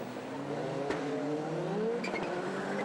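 A Skoda rallycross car at a European Rallycross Championship round in Germany roars past at racing speed, its engine note sweeping as it nears and recedes, with faint tire noise beneath.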